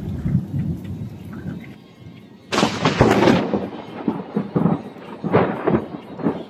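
A thunderstorm rolls through with heavy rain, a low rumble giving way to a sudden loud thunderclap followed by further rolling cracks and booms, with steady rainfall underneath.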